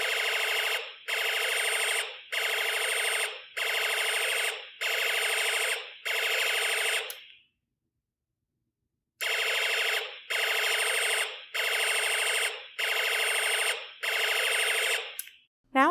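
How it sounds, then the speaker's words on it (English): An electronic ambulance siren from a snap-together electronics kit, loud and alone, repeating in rapid pulsed bursts that stop briefly and then start again. "You should now hear the sound of an ambulance."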